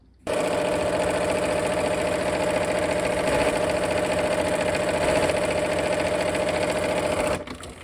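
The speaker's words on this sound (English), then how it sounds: "we'll go ahead and sew a 1/4 inch on both sides of that line" A sewing machine stitches quarter-inch seams through quilt fabric for a peachy cream sampler quilt, a steady, close, continuous mechanical whir that starts abruptly, holds evenly for about seven seconds, then stops, with no talking.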